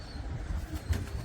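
Pigeons cooing softly in a loft as birds land, low murmuring coos with faint rustling, moderately quiet and without talk.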